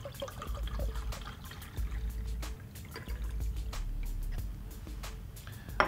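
Iron solution is poured from a volumetric flask into a 250 mL glass beaker in a lab, making a steady, soft liquid trickle and gurgle close by that runs throughout with no talk.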